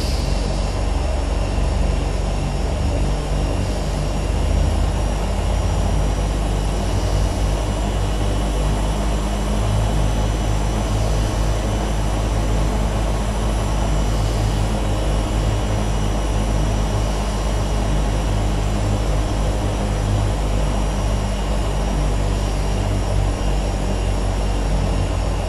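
Turbine Duke twin-engine aircraft powering up for takeoff from SFO: a loud, continuous turbine roar with a steady high whine, filling the cabin evenly throughout with no talk.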